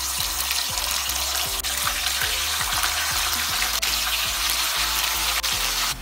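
Marinated tuna fish fries in a pan with a loud, steady, close sizzle that fills the whole few seconds without pause.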